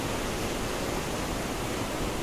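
A dangerous torrential mountain stream rushes near a crowded temple during the monsoon month of Sawan, a dense, unbroken roar of water filling the whole clip with no voices.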